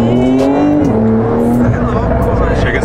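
A tuned Porsche accelerates hard with a loud droning engine note that steps in pitch, mixed with tire squeal as the wheels lose traction, heard from close inside the car.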